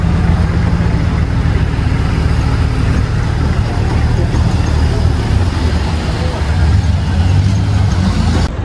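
A car engine hums steadily up close while parking on a mountain road near Mount Merapi, Yogyakarta, with continuous low rumble and a faint tonal drone throughout.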